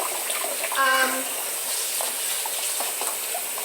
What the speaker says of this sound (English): So I'm just quickly washing out my bowl so it doesn't stick